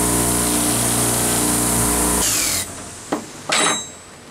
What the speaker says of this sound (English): This wire wheel on the end here, it works, but it's not my favorite.